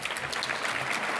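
Applause at an anniversary dinner for a refugee advocacy organisation: a brief, even wash of clapping from the room, fairly faint and distant, with no speech.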